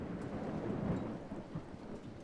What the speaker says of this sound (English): As you can see, it is pouring rain, which is unfortunate.